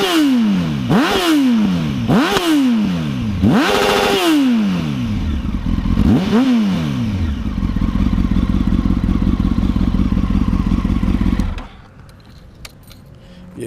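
A 2002 Honda CBR954RR sportbike engine revved hard several times in quick succession, each rise in pitch falling back, then held at a high steady drone before cutting to idle, loud and close.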